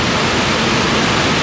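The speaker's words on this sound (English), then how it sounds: "We're gonna get closer to the waterfall." A waterfall roars up close, a dense, steady wash of broadband noise filling the whole span with no pauses and no voices.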